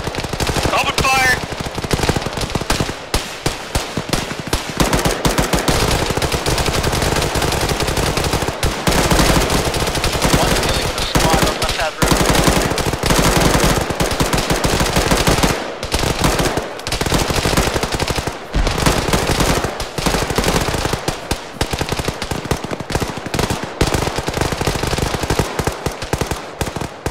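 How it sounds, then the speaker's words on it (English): Sustained machine gun fire rattles nonstop through an Arma 3 ambush, dense bursts and single shots overlapping for the full stretch with occasional voices over it. "Open fire!"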